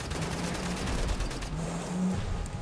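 Bursts of gunfire in Wolfenstein: The New Order, rapid clustered shots in a loud continuous fusillade, with heavy ambient rumble underneath and no talk.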